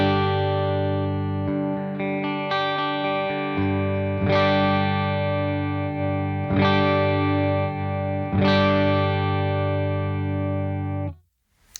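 An electric guitar played through a Quad Cortex capture of a clean amplifier sounds sustained, ringing chords. A few fresh strums are struck over the held notes before they cut off abruptly at the end.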